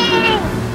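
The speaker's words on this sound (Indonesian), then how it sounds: "Ada suara kucing" A single short Minecraft cat meow rises and then slides down, loud and close, over a faint game background.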